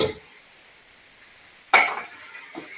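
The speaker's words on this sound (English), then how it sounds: "Now just stir this in." Pre-seasoned ground meat is stirred in a pan over medium heat, heard as a brief utensil scrape at the start and a louder scraping clatter near the end over a faint background hiss.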